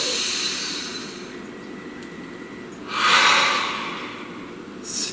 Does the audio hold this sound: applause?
no